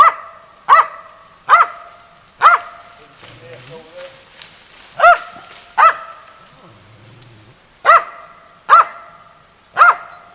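A hunting dog barks loudly and repeatedly at a squirrel up in a tree, sharp single barks in an uneven rhythm close by, with brief quieter gaps between bursts.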